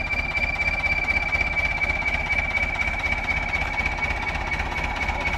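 Ford turbocharged engine runs loud and close, with a steady pulsing, throbbing drone and a high whine holding for the whole stretch, without any talk.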